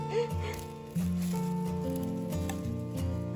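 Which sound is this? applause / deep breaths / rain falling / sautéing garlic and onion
rain falling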